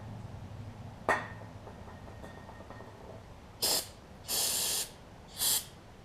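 An aerosol can sprays cleaner into a lawn mower carburetor on a Craftsman Tecumseh push mower in three short hissing bursts, the middle one longest, preceded by a faint click, with no talking.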